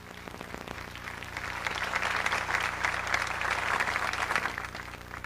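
A church congregation claps in worship, the applause swelling from a few scattered claps into a broad, steady round over a low hum.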